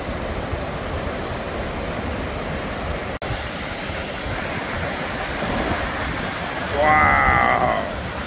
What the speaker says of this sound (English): That's some violent water.